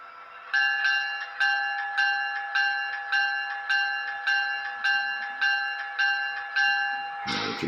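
A model train locomotive sound unit rings its bell in a steady, even rhythm, eleven clear metallic strikes about two-thirds of a second apart, loud and close, ending in a brief clunk.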